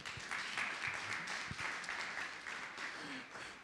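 A church congregation breaks into applause: a steady, dense wash of many hands clapping together. It holds at an even, moderately quiet level for several seconds, with no clear speech over it.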